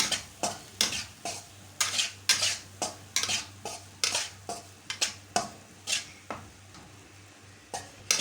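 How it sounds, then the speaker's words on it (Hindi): Flour (maida) being stirred into hot oil in a pan while making milk-powder burfi: a steady run of close, sharp scraping strokes, roughly one or two per second, over a low hum, with no talking. "अभी इसमें हम मैदा ऐड करेंगे 1 कप। इसको अच्छी तरह मिक्स कर लेंगे।"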